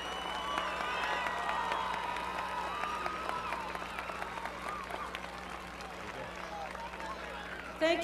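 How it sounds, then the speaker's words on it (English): A crowd at a high school football field in 2001 cheers and applauds for a new scoreboard dedication, a steady, dense wash of clapping and voices that eases slightly toward the end. "Let's give them a big cheer."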